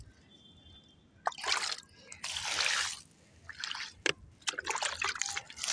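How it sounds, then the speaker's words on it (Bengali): Water splashed and sprinkled by hand over a vegetable field of red amaranth, in several irregular bursts of pattering and dripping outdoors, fairly close, with quiet pauses between. "এরকম করে পানি ছিটিয়ে পানি দিলে তাড়াতাড়ি বড় হইব সবাই বলে।"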